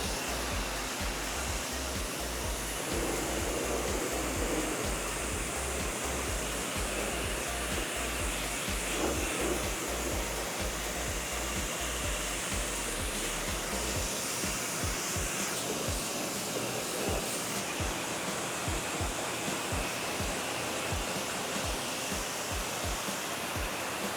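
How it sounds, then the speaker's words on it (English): Water from a hose or pressure washer rinses the engine bay of a 20-year-old car. The spray makes a loud, continuous hissing rush close by, with low thumping underneath, and there is no talk. "So just like that, we're ready for rinse off again."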